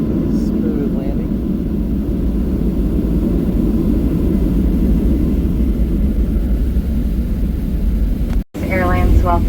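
Southwest Airlines airplane rolling on the runway after landing in Sacramento, a loud continuous cabin rumble and engine roar with a brief cutout near the end, followed by a voice over the noise.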